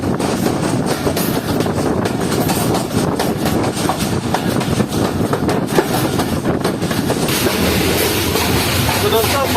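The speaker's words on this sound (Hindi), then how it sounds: "तो चले 9 अप अल्लामा इकबाल एक्सप्रेस को नारवल शहर में एंटर होता हुआ देखते हैं।" The Allama Iqbal Express train rolls into Narowal with a steady rhythmic clatter of wheels on the rails and a constant rumble of carriages, heard close by and loud. A voice talks quietly under the noise.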